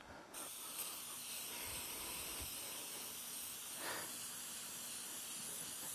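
A steady hiss of an aerosol can spraying filter oil onto an ATV air filter close up, continuous with a few brief clicks and rattles.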